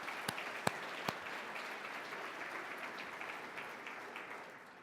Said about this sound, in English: So give yourself a great round of applause.